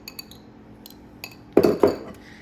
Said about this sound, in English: I have this cute tiny little whisk here. Whisk those a little bit more.